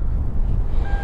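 A BMW X3 30i Xline power tailgate sounds a steady electronic warning tone as it closes, a clear beep entering late over low rumbling background noise.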